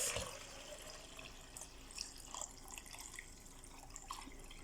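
Clean water poured into a container for making liquid soap, a steady splashing, trickling flow that runs close and fairly loud from start to finish with no talk.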